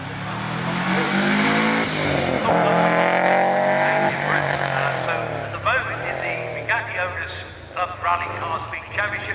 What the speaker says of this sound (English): the Egger Mark 1 Escort is on the line